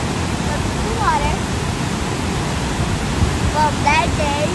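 Broad steady roar of Niagara Falls, a constant wash of falling water filling the scene, with faint voices and brief chirping calls over it.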